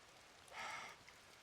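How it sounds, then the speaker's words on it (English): Rain falling in woods during a darkening storm, a soft broadband hiss that swells briefly in the middle of the short clip and then eases back to a faint steady patter. "the rain's coming down even harder"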